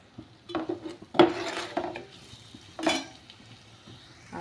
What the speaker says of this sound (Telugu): కారం, సాల్ట్, పసుపు అన్నీ వేసేసి కలుపుతున్నా.